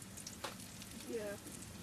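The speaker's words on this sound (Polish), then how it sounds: "ktoś nagrywa, jak ja tu smażę te cukinie?" Soft, steady sizzling of zucchini frying in a pan, a low crackling hiss throughout with faint voices in the background.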